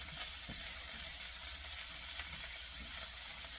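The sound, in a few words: sautéing vegetables and ginger, mixing in pan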